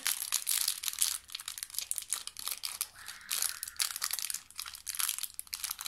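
Plastic packaging crinkles and crackles close up in irregular, busy bursts for several seconds, with no talking.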